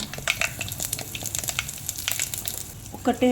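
Urad dal, cumin and dried red chillies sizzling in hot oil in a pan as they are stirred, a dense crackling fry with quick scraping strokes throughout.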